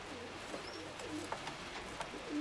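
Pigeons coo softly inside a dovecote, a few low throaty calls rising briefly over quiet background rustle, fairly faint and close.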